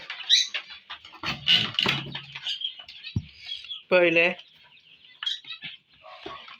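Button quails in a small hobby coop give short chirping calls amid a man's close-up talking, with a brief louder bird call near the middle.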